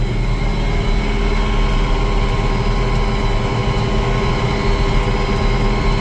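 A tractor drones at constant load while plowing a tall alfalfa field, its loud, low engine hum steady and unbroken from a cab-close position.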